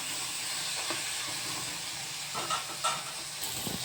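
Curry leaves sauté in a pan as part of a home-cooked dish, giving a continuous close hiss and sizzle with a few faint clicks of stirring.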